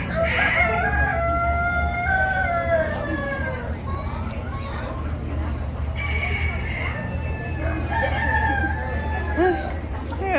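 Bantam cochin rooster crowing in a garden coop, with hens clucking and chattering around it, several drawn-out crows rising and falling near the listener under a voice talking.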